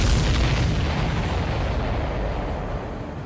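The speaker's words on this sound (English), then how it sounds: "Did you see that explosion? Looks like that's one of them down." A loud explosion in the Ace Combat flight game erupts with an initial blast, then rolls into a long, deep rumbling decay that fades over a few seconds, with no talking.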